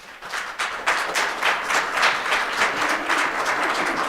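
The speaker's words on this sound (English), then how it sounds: "there's no applauding after people speak out of a courtesy" An audience at a Wheat Ridge city council meeting bursts into steady applause, a dense wash of handclaps that holds evenly for several seconds, with no talking over it.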